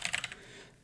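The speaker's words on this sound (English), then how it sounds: "So I'm gonna write here Andrei" A few quick, soft keystrokes on a computer keyboard while typing a name into an email form in WordPress, faint and brief, then quiet.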